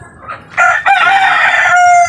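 A rooster crows once up close and loud, a rising, drawn-out call that holds steady to the end after a few soft clucks at the start.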